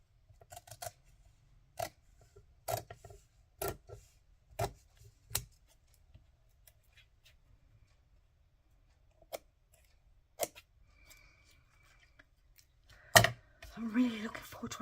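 Scissors snip through card for a Christmas papercraft wreath piece, a series of sharp, close clicking cuts spaced apart with quiet gaps, ending in a louder rustle of paper handling.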